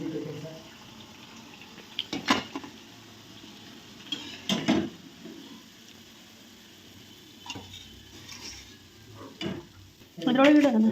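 Food frying golden brown in an oil-filled pan gives a steady sizzle, broken by several sharp clinks and stirring knocks of a utensil against the pan, with a louder burst of bubbling near the end.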